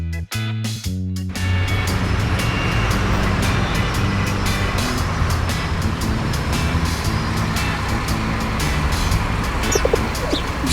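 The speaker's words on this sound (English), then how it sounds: "Look out, pigeons." Pigeons cooing, soft repeated coos with light chirps over a continuous background hum and some traffic noise, after a few brief knocks at the start.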